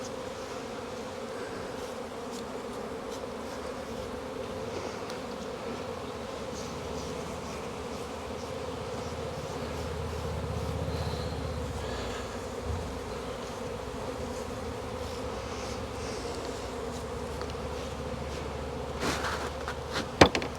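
Honey bees buzz around a cell builder frame in a dense, steady hum that swells slightly midway, with a few soft knocks near the end and no talk.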